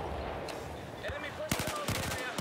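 Rapid bursts of machine gun fire ring out in a Battlefield 4 match, sharp clustered shots mostly in the second half over a busy battlefield din, with radio-style voices faintly present.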